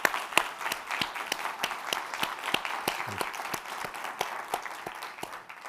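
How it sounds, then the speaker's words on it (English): An audience at a medical reunion symposium applauds in a steady round of clapping, moderately distant and even throughout, with no voices over it. "I just wanted everybody to give Catherine a round of applause."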